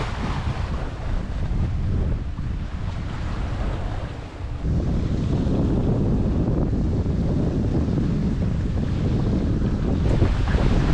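Steady wind rushing over a sailboat crossing the Atlantic, with a low roar of ocean swell around 1.5 to 2 metres washing against the hull, continuous and fairly loud with a brief dip midway.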